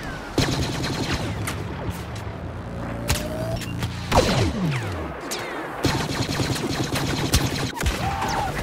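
Blaster fire in Star Wars Battlefront, Hoth Walker Assault on Xbox One: rapid bursts of shots and booms over continuous battle noise, with a sweeping whine midway.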